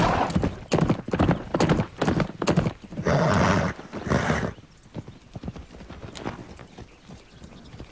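Horse hooves clip-clop in a loud, close, uneven series of hoofbeats, joined midway by a brief whinny before the steps fade to softer, quieter footfalls.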